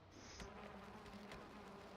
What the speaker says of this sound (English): Okay, I hear the bees.